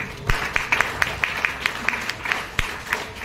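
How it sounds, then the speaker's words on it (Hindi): Scattered, fairly sharp hand claps from an audience at a Jain diksha ceremony, coming as separate claps at an uneven pace rather than a dense roar, with a faint background murmur. "जोरदार तालियां"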